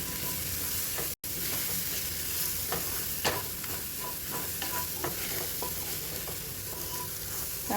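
Green chili, garlic and turmeric fry in a pan with a soft, steady sizzle. The spoon stirs now and then with light scraping taps, and the sound is fairly faint and close.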